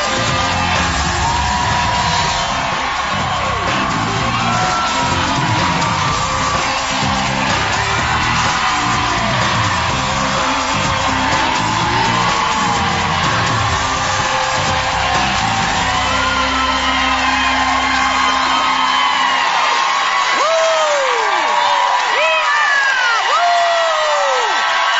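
A television talk show's studio audience cheers, whoops and yells continuously, a loud dense roar of many voices that carries through the whole stretch, with clapping mixed in.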